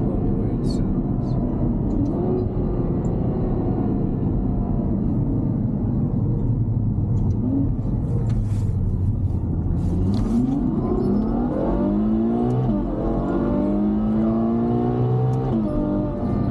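Inside a Ferrari GTC4Lusso cruising around Ketchum, Idaho, the engine drones loudly and rises in pitch through several accelerating pulls, with passengers talking over the steady mechanical roar.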